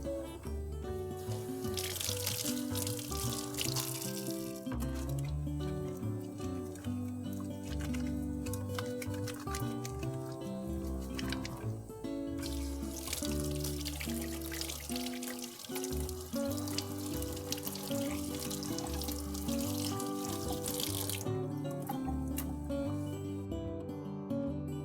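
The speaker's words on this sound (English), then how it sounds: "I'm going to wash my hands with Savlon hand wash, which protects us from a million germs." A tap runs steadily while hands are washed with Savlon hand wash at a sink. The water sound sits under prominent background music the whole time.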